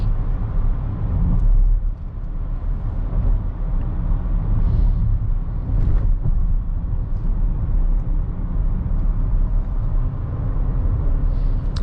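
A 2021 Chevrolet Traverse takes a corner, and a steady, loud road and engine rumble fills the cabin without a break.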